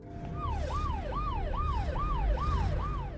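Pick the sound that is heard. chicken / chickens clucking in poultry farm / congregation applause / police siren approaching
police siren approaching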